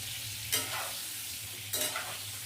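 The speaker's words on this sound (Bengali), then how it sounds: "আমি পটলটা ভেজে নিচ্ছি।" Pointed gourd (potol) frying in oil in a pan, a soft steady sizzle with two distinct scraping stirs of a spatula, quiet and close, with no talk.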